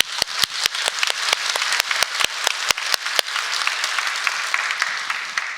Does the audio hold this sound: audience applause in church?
yes